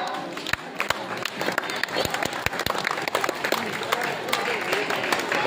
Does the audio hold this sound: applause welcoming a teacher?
yes